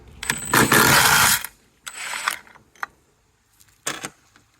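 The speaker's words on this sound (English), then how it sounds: "first thing we're gonna do, we're gonna take this side bolt out. This is with the H6." A ratchet with an H6 bit turns out a side bolt on a 2009 Ford Escape Hybrid, clicking in one long close burst, then a shorter burst and a few brief clicks separated by quiet pauses.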